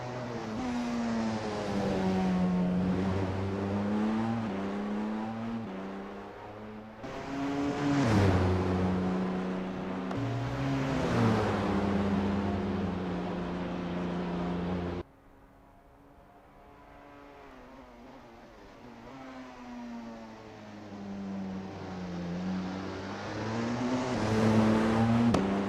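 Race cars on an out lap in Assetto Corsa at Le Mans, engines rising and falling in pitch through repeated upshifts and downshifts, with a sharp cut to a quieter car before the revs climb again.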